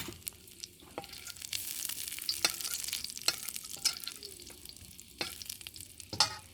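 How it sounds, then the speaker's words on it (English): Ginger, onion and garlic stir-fry in hot oil, giving a quiet, steady sizzle with repeated sharp scrapes and clinks of a utensil against the pan. "I stir fry the ginger and onion and the garlic first"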